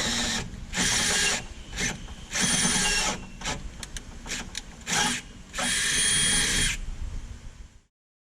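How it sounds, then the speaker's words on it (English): A power drill with a 5/16 bit bores mounting holes for a condenser kit on a 1986-87 GM G-Body Turbo, sounding as loud whirring bursts of one to two seconds separated by short pauses, ending in silence. "Take a 5/16 drill bit, punch those out."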